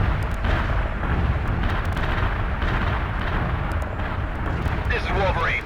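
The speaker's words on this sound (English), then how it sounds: "Artillery barrage fired for effect." Artillery barrage explosions in the World in Conflict video game form a dense, continuous roar of overlapping booms and rumbling blasts, loud and close, with a faint radio-style voice near the end.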